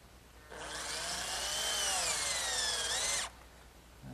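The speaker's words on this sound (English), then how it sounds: "I'm just going to take a screw and partially drive it in to sort of give me like a pilot hole" A power drill partially drives a screw into wood, one continuous high whine lasting about three seconds, close and loud, rising slightly in pitch and stopping abruptly.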